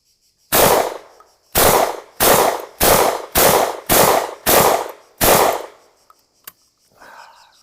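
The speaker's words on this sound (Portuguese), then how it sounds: "Vamos testar alguns disparos." Molot VEPR 12 Russian shotgun fired eight times in a quick, steady series of loud, sharp blasts, each with a short boomy tail, followed by faint clicks and handling noise.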